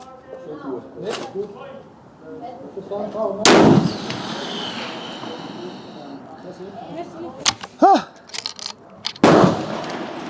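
A Swiss Martini Jagdstutzer rifle fires one sharp, loud shot, with a broadband crack and a short rumbling tail, amid faint outdoor background noise and a few clicks.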